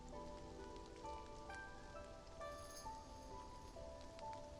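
Steady rain falling in the game Love and Deepspace, a continuous soft patter of drops on surfaces heard quietly throughout, with faint tonal music in the background.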